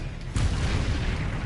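A Confringo blast spell explodes in Hogwarts Legacy, a sudden boom with a broad low-heavy roar that sustains loudly for about a second after a quieter lead-in.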